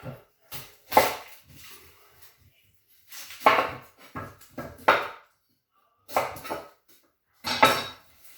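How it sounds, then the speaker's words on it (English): A knife chops an onion on a board while a Thai minced pork and rice dish is prepared. It comes as several close, crisp bursts of rapid chopping separated by short pauses, with no talking. "First of all, I'm going to chop this onion."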